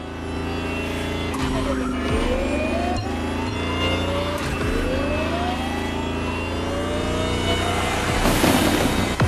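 A Lamborghini Terzo Millennio in The Crew Motorfest revs hard through rising gear sweeps, its electric-sounding whine climbing and dropping several times, loud and close, with brief thumps between pulls.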